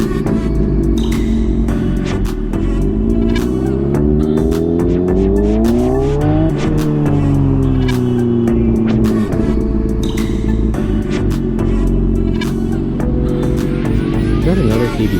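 A Honda CBR600RR sport motorcycle rides on the highway, its engine loud and close as it revs up and shifts repeatedly with rising and falling pitch, buffeted by wind and with brief speech over it.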